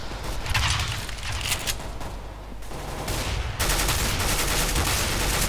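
Gunfire in Counter-Strike: Global Offensive crackles in rapid bursts of sharp shots, loud and dense, with a heavier barrage of fire taking over near the end.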